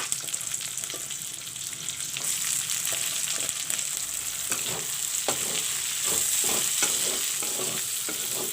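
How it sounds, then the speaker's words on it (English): Onions frying in oil in a pan for a chicken curry, a steady continuous sizzle with occasional stirring scrapes and clicks throughout, close and fairly loud with no talking. "Let the onions fry pinkish brown."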